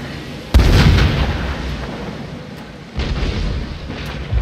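Heavy cannon fire in the video game Shogun 2, two loud booming blasts about two seconds apart, each with a rumbling tail, close and full with no talk.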